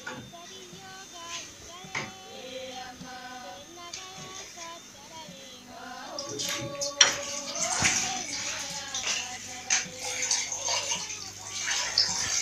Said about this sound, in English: We put the water and we close it